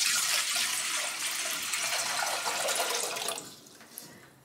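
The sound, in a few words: water being poured into a cooking pot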